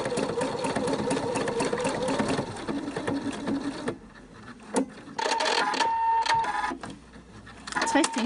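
A sewing machine stitches a zigzag bartack on a fabric face mask, its rapid mechanical chatter running in bursts with short pauses, while a voice talks over it.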